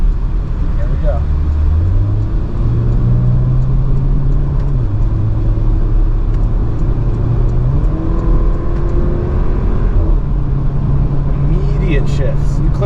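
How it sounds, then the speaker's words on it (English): A 2022 Porsche Macan base model, paddle-shifted PDK transmission, with the engine note rising, dropping at each quick gear change and rising again, heard from inside the cabin as a steady drone while someone talks over it. "On the downshifts too, it just picks right up."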